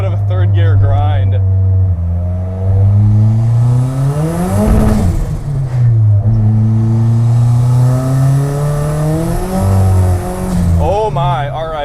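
A turbocharged Mitsubishi Eclipse engine in a small pickup truck roars loudly and close, revving up through gears with rising and falling pitch under hard acceleration while the tires spin, with someone talking over it.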